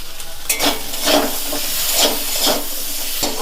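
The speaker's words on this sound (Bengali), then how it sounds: "আলুগুলো নাড়াচাড়া করে এর মধ্যে একটু লাল লাল মতন হয়ে ভাজা হয়ে যাবে" Salted boiled potatoes fry in a hot pan, with a continuous close sizzle and repeated scraping strokes as they are stirred, alone with no talk.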